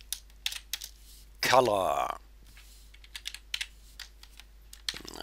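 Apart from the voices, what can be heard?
typing on a computer keyboard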